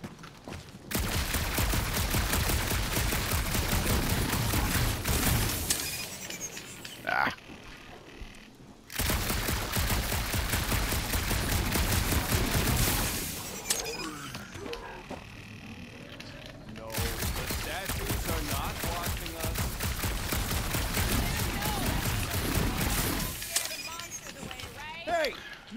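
Sustained bursts of rapid gunfire from shooting in the Guardians of the Galaxy video game, loud and dense, with brief pauses between long volleys and mechanical creaks mixed in.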